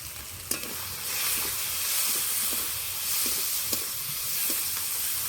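Spice paste of cumin powder, chili powder and green chili paste frying in oil, a close steady sizzle and hiss with light stirring scrapes at intervals, no voices.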